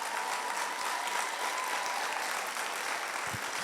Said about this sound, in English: I feel like we need to warm up our clapping, so let's try that again.